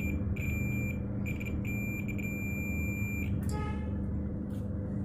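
A continuity tester checking a Royal Enfield spark plug gives a high electronic beep in several short bursts, then a longer tone, over a steady background hum.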